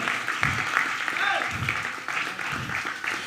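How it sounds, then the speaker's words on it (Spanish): A church congregation at Luz a las Naciones Church applauds at an evening service. Steady moderate clapping is heard, mixed with crowd murmur and voices, and bursts swell at intervals. "Give a great round of applause to your God this evening."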